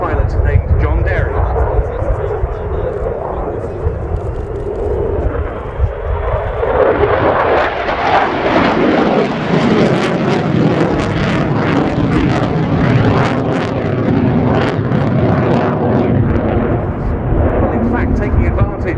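A Swiss Air Force F/A-18C Hornet jet flies a display at an airshow, its loud roaring engine sweeping past with a rising, shifting pitch that dominates throughout, while a commentator talks over it.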